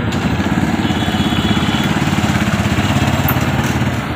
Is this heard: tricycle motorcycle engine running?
yes